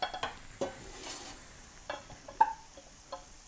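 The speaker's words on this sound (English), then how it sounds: "keep an eye on this, sauteing this down a little bit more" Carrots sauté in a pan, giving a faint sizzle with a handful of scraping and clicking stirring strokes spread unevenly across the moment.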